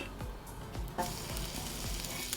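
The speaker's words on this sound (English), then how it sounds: "you finish with the sizzle of the butter" Continuous crackling sizzle of scallops frying in butter in a hot pan, dense and close, with a few louder pops and spits.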